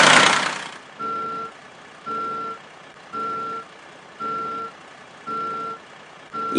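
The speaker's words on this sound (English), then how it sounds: "now back the truck up to the dumping area" Garbage truck reversing beeps in a landfill driving video game: a steady series of six evenly spaced electronic beeps, each about half a second long, over a low engine hum, loud and alone without talk.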